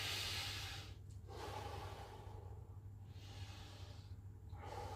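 Deep breaths drawn in through the nose, three or four slow airy inhalations with short pauses between, close and soft over a low background hum.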